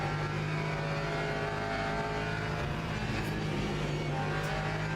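A loud race car engine in the game Le Mans Ultimate drones steadily at high revs, a continuous buzzing roar with slight pitch shifts throughout.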